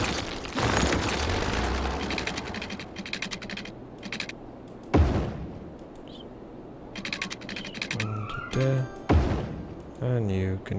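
A road connection is demolished in Cities: Skylines, marked by a short boom-like crunch among mouse clicks and soft game ambience, with someone talking over much of it.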